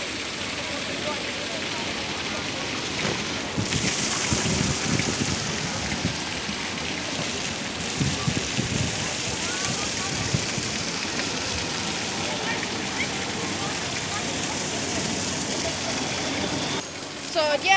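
Rain falls steadily outdoors, a continuous wet hiss with splashes and water noise that runs for the whole stretch, fairly loud and close.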